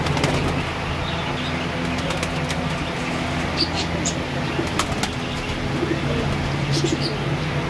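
Flying pigeons kept by a hobbyist, soft cooing and repeated bursts of wing flapping over a constant low background hum and rustle, close to the microphone.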